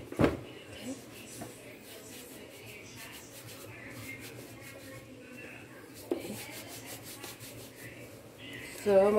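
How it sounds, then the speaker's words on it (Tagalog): Hands rubbed together to clear flour while making zeppole dough, a soft dry scuffing that keeps up throughout, with a few louder brushes at the start, near the middle and at the end. "Ganun muna ako ng aking harina para matanggal ang harina sa aking kamay."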